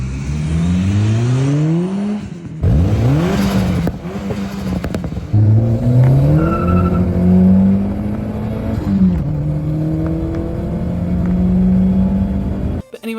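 Turbocharged car with a custom exhaust revving hard, its engine note climbing and dropping through several sweeping pulls with brief gaps between, loud and close throughout.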